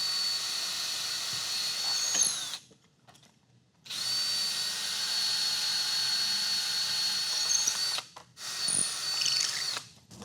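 A power drill with a bit spins in steady, high-pitched whining bursts, stopping briefly twice and restarting, close and fairly loud with a faint mechanical rattle beneath, during a potato cannon build.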